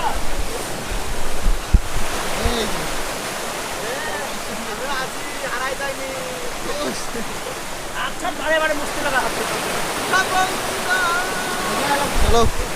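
Strong river current rushing near a hidden waterfall in Assam, a steady loud roar of churning water with some wind buffeting, while people talk and shout over it.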